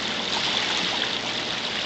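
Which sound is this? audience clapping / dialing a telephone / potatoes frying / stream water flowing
stream water flowing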